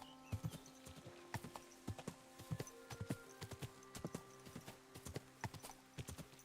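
Hooves of a horse walking cross-country in Kingdom Come: Deliverance 2, distinct evenly spaced clops, fairly close and quiet, continuing steadily without speech.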